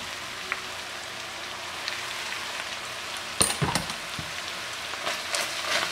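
Ground beef, onion and garlic in a frying pan, crackling and popping faintly with a few sharper clicks and stirring knocks near the end.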